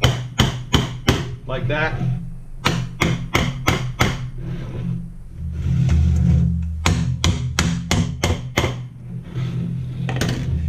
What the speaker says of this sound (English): just grab a piece of PVC pipe and tap it in